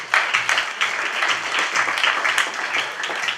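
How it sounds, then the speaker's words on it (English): An audience at a student leadership debate claps briefly, a short burst of moderately loud applause lasting a few seconds. "give everybody a round of applause"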